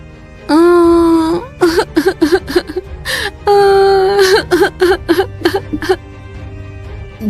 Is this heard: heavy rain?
no